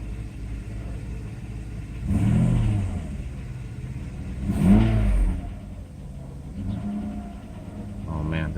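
Engine of a Mercedes 600SL, recently repaired and being throttle-tested: two short revs rise and fall over a low idle rumble, with a fainter blip near the end.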